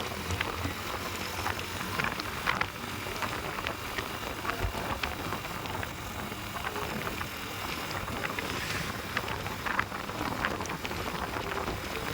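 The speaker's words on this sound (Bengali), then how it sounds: "বৃষ্টি পড়ছে।" Steady patter of rain falling on surfaces on a road near Darjeeling, moderately quiet, with scattered sharper drips and a faint wash of wind throughout.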